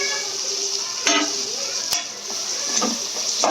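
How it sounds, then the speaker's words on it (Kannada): Three chopped medium-sized tomatoes sizzle in a pan for chicken biryani, a steady close frying hiss broken by a few scraping stirs of a spoon. "ಇವಾಗ ಇದಕ್ಕೆ ನಾನು ಕಟ್ ಮಾಡ್ಕೊಂಡಿರೋಂಥ ಟೊಮ್ಯಾಟೋಸ್ನ ಹಾಕೊಂಡಿದ್ದೀನಿ"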